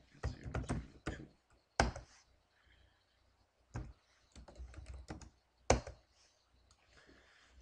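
Computer keyboard keys tapped in short bursts while a router command is entered, quick close clicks separated by brief pauses, fairly quiet.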